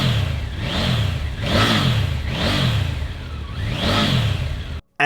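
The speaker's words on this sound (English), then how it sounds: "The stock exhaust has a nice rasp to it." A Triumph Tiger 900 Rally Pro motorcycle with stock exhaust revs up repeatedly, four rising and falling surges in a raspy engine note, loud and close, no talk.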